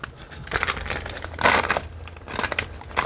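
A plastic tissue culture bag crinkles and crackles up close as it is snipped with scissors and handled, in a few irregular rustling bursts, with no talking.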